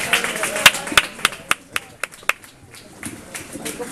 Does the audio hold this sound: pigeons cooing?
no